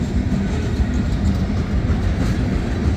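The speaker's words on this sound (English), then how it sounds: "Lots of center beams on this train" A CSX freight train hauled by a pair of rebuilt CM44 locomotives rolls past at Ijamsville, Maryland, pulling center-beam cars, a loud, steady low rumble of wheels and cars filling the whole stretch with no pauses.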